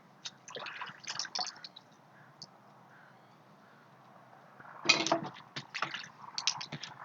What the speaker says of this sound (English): So washing off some more dirt here.